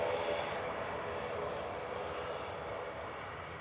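Lufthansa airliner at Manchester Airport, its engines a steady broadband roar that holds level and fades slightly, with faint talk in the background.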